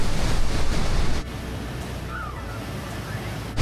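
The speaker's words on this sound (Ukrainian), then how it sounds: "зараз ми максимально наближаємося до Ніагарського водоспаду" Niagara Falls roars as a steady, dense wash of rushing water, loud for the first second then settling to a continuous, slightly softer rumble with wind buffeting the microphone.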